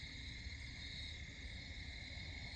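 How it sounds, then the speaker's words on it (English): Faint, steady high-pitched insect chirring on a September night, a continuous layered drone of crickets and cicadas in the distance with no voices. "you can hear the crickets and cicadas even here in September."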